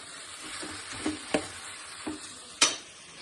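Carrot stir-fried with vegetables in a pan: a soft steady sizzle with a few sharp scrapes and taps of a spatula against the pan, close and moderately quiet, no voices.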